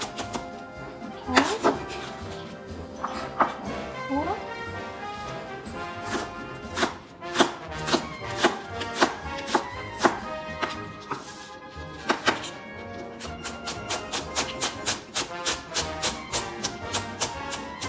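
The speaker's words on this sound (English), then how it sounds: "We will go fine slices of the onion. The leftover pieces can be nicely chopped in." Knife slicing an onion into fine slices for shepherd's pie, then chopping the leftover pieces, a run of sharp taps on a cutting board, slow and spaced at first, then a fast, steady series of chops near the end.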